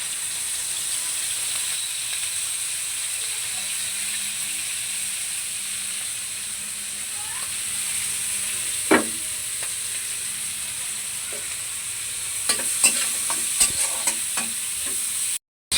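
Green chilies and onion frying in hot oil, a steady bright sizzle running throughout, with a few sharp clinks and scrapes of stirring near the end.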